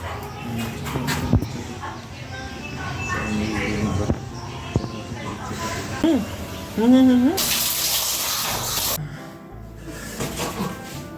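Tap water runs into a sink during face washing in the morning, with splashing and shifting flow over a few seconds, a burst of louder rushing water mid-clip, and some nearby handling noise.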